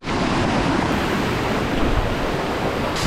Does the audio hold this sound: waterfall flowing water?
yes